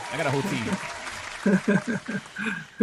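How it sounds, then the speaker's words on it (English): A crowd claps under a voice, the applause a steady patter while he talks over it. "can we give him a round of applause?"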